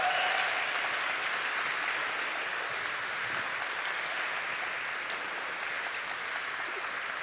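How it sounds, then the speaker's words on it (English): A conference audience at the So Coded 2015 developer event gives the organizers sustained, dense applause: a steady wash of many hands clapping at once that eases off slightly over several seconds, with no talk on top. "Everybody, round of applause for them, please."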